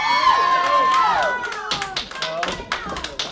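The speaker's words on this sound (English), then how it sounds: "Crowd showing some encouragement for DJ Kash." A wrestling crowd at a live main-event show claps and cheers in encouragement, scattered sharp hand claps and whoops rising behind a squealing, sliding tone early on.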